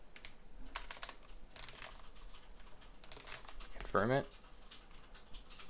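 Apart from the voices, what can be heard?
typing on a computer keyboard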